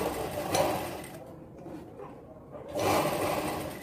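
A sewing machine stitches a round collar for a baby girl's kurti, a close, rumbling whir that runs, drops to a softer pause in the middle, and then starts up again.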